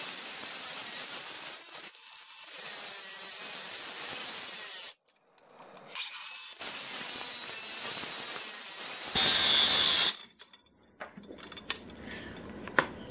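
A Ryobi brushless battery angle grinder cutting in bursts, a harsh high whine and grinding that runs for a few seconds, stops, then restarts, the last cut loudest before cutting out.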